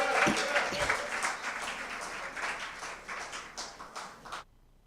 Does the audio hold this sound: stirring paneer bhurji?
no